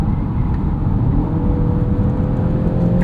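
A 2023 BMW X1 xDrive28i turbocharged engine pulls under acceleration, a steady low engine drone and road rumble heard from inside the cabin, continuous and moderately loud with no speech.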